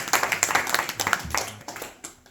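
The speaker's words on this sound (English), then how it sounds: "Please give a round of applause to everybody." A small group claps together at a Bhagavad Gita study gathering, brisk, dense and fairly close, fading out after about two seconds.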